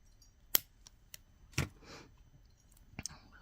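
Wire cutters snip jewelry wire off an expanding bracelet, giving a few sharp, close clicks spaced apart over faint background handling noise.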